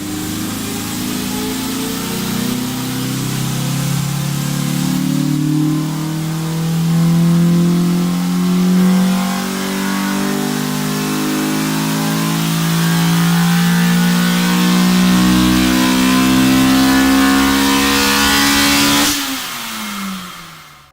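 A 200 hp Daewoo 1.6 engine with an RMF header, held at steady high revs on a dyno, with a loud sustained drone that wavers slightly before the throttle closes and it winds down at the end.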